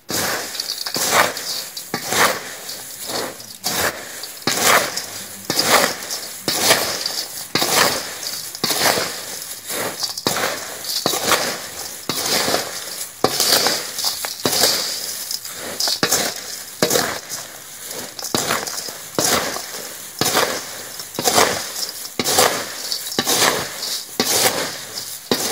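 Puffed rice tossed with spicy chanachur while mixing jhalmuri, a rhythmic series of dry rustling, crunching scrapes against a bowl, repeated steadily and close up, with no talking.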